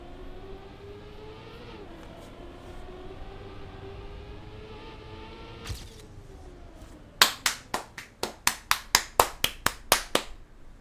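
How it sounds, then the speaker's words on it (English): Someone claps with flat palms, delivering about a dozen sharp, loud claps in a quick, slightly uneven run near the end, after a stretch of quiet background hum with no speech. "Clapping with the palm, because I can't clap with the fingers."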